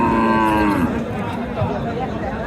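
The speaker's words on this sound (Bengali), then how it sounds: "তো দেখি আরও যে গরুগুলো রয়েছে ধীরে ধীরে একটু করে দেখাই" At a busy cattle market, a loud, close cow moo rises and then fades, with crowd chatter and talking voices going on underneath.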